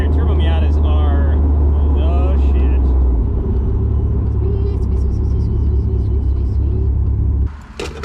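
A turbocharged Mazda Miata race car engine pulls loudly with a deep rumble and rising whine, then cuts off near the end, while someone talks over the start of the run.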